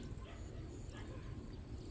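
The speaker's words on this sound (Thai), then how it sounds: "มีเสียงน้องหมาเห่าด้วยนะคะ" A dog barks faintly in the distance, with soft yips and whimpers partly buried under steady low outdoor rumble.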